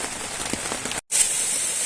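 Rain falls at night at the Curug Cipanas waterfall, a dense, even hiss of drops that continues alone, broken by one brief moment of silence.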